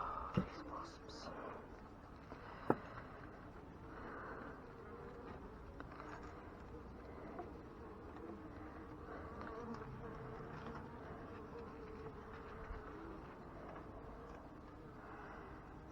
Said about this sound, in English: oh, these wasps.